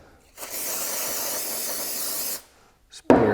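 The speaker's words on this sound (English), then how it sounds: "Spray your activator on there." One steady hissing spray of glue activator from an aerosol can onto a mitered joint, lasting about two seconds, close by, then silence and a brief knock.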